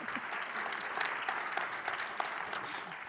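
Steady applause from a conference audience at an EUIPO copyright event, dense and continuous for about three seconds, moderately quiet and heard from a distance with scattered sharper claps.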